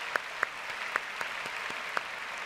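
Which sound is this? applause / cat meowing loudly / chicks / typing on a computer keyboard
applause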